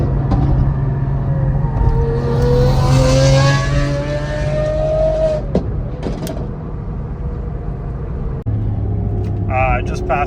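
Supercars including a Pagani and a Sabre cruise past in a loud, rumbling convoy, their engines rising and falling in pitch as each one approaches and goes by, with a voice talking over the sound.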